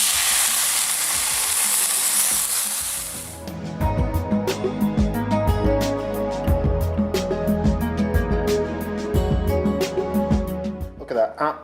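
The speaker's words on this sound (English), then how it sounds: "we're going to sear all the sides of the meat to get it really flavorful and nice and brown" Meat for roast beef hits a very hot pan and sears with a loud, steady sizzle that starts after a burst of hiss, with frequent clicks and scrapes of the pan running beneath.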